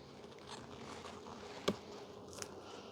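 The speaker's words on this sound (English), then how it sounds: "There are so many bees in this." Honey bees swarm in a packed hive with a dense, continuous buzzing drone, close to the ear, broken by a sharp click or knock midway and a softer tap later.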